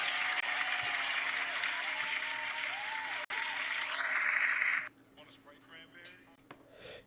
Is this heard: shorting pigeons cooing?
no